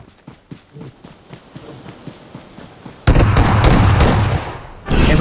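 Gunfire in an FPS video game, first a rapid run of light, evenly spaced shots, then a sudden loud, dense burst of fire and blasts that fills the sound, briefly drops, and returns near the end.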